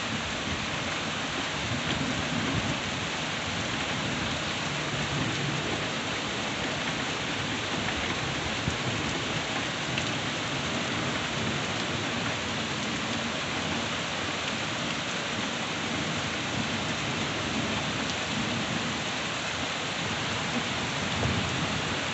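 Steady, heavy rain hisses on surfaces throughout a thunderstorm, with low rumbling thunder rolling beneath the constant downpour.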